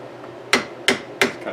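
A hammer taps on a part of a 1974 Suzuki TC 185 motorcycle, giving four sharp metallic strikes spaced about a third of a second apart. The taps are close, clear and unaccompanied.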